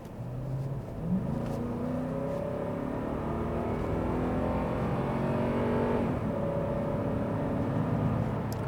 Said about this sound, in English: I'm going to push the throttle for you to hear the sound of the V8.